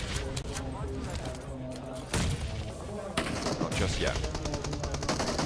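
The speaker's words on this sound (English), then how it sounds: "You can see shots actually ringing out across the map towards them" Rapid gunfire from a PUBG Mobile esports match, dense bursts of automatic shots running throughout with thuds and explosions mixed in, under a caster's continuous commentary.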